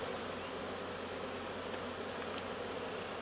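Honey bees buzz in a continuous dense hum around an opened beehive during an inspection, steady and close without pauses.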